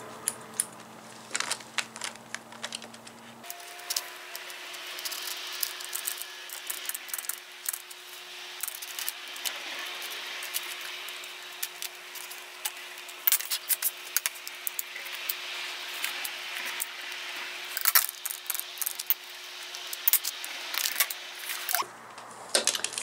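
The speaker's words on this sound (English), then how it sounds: "So I just cut them off." Loose thread stitches snipped off a machine-embroidered wallet, giving scattered small clicks and snips close up against a quiet room with a faint steady hum.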